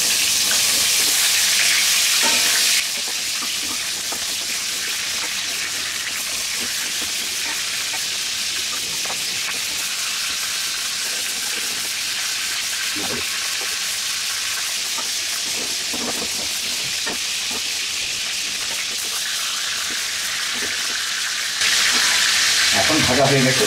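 A rohu fish head fries in hot oil in a wok with a continuous sizzle and scattered spatter pops. Short bursts of louder hissing open and close the stretch, and no one talks.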